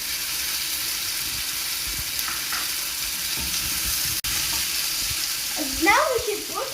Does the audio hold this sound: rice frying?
yes